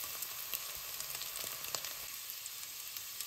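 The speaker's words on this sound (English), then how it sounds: "Shallow fry the potatoes." Potatoes shallow frying in a pan, giving a soft, steady sizzle with faint crackles and a few small pops throughout, heard alone and fairly quietly with no talking.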